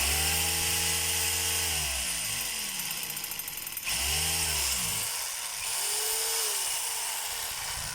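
A DeWalt D25133 rotary hammer runs in chipping mode, hammering only without rotation, giving a loud, continuous buzzing drone that dips and swells in pitch several times, heard close with no talking.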